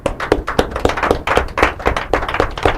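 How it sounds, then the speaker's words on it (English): Audience applause at an inter-collegiate quiz and debate competition, steady rhythmic clapping from many hands, fairly close and loud, with no talk over it. "Clap, clap, clap, clap,"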